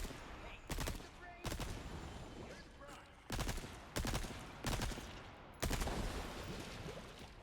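Gunfire in a video game comes in about seven sharp, loud bursts at irregular intervals, each a short rattle of shots, with game dialogue and ambience between them.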